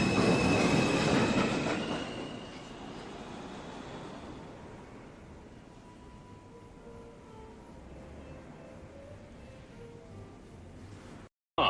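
A New York City Subway 1 train arrives at Lincoln Center station, loud rumble and wheel squeal up close at first, then a quieter rolling clatter and squeals as it slows, no talking.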